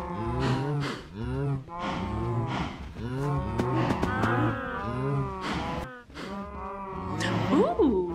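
Cows in Minecraft, the video game, give a run of repeated synthetic moos, loud and close, following one another in a steady rhythm across the whole stretch.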